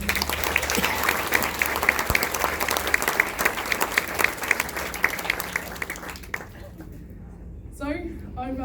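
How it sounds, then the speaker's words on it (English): An audience at an International Women's Day event for women in construction bursts into sustained applause, a dense wash of many hands clapping that holds for about six seconds and then fades, leaving a voice speaking briefly at the end. "Can we please give them all a round of applause?"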